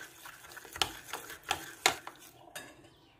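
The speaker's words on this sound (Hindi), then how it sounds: "इसको मिक्स कर लूंगी।" Oil being mixed into a bowl for chicken bread dough, a run of quiet scraping and clinking strokes in an uneven rhythm, close and faint, with no talking.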